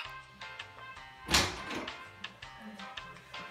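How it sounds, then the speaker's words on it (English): A door is shut with a single firm thud at about the midpoint, preceded and followed by faint taps and quiet background sounds, with no speech. "Now that's how you close a door."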